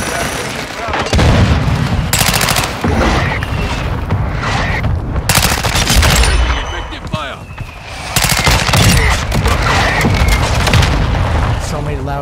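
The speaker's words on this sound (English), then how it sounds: "So many loud explosions." Loud, continuous gunfire and repeated booming explosions in the Modern Warfare II video game, dense bursts of shots and blasts filling the whole stretch with only brief lulls between heavy barrages.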